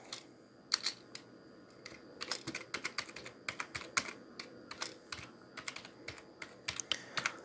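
Keys are typed on a computer keyboard while a web page is being edited, producing quiet, close clusters of quick clicks in irregular bursts with short pauses between them.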